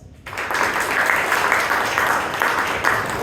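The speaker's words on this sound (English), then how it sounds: "And give a huge round of applause for our Toastmaster of the day, Toastmaster Srinivas." Audience at a Toastmasters club meeting in Bangalore applauds the day's Toastmaster; after a brief quiet start, a dense, steady round of clapping fills the room and holds loud to the end.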